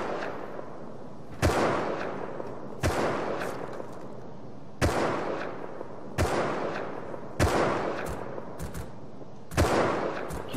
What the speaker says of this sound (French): c'est eux qui tirent au silencieux